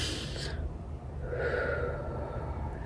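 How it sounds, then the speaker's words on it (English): Slow, soft exhales of breath, as if fogging a glass, used as a breathing technique for calming anxiety; two long hissing outbreaths sit close over a low background hum. "you basically do slow breaths to try and get that fog on the glass versus blowing out the candle."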